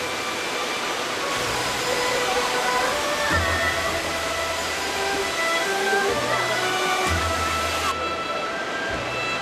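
Sandiequan waterfall on Mount Lu, a steady broadband roar of falling water running throughout, loud and continuous, with low rumbling shifts layered underneath.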